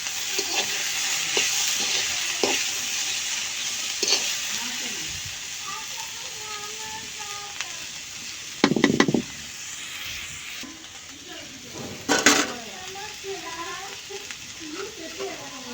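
Vegetable bhaji fries and is stirred in a pan on a stove, a soft continuous sizzle with scraping strokes, two louder clattering bursts near the end, and occasional voices in the background.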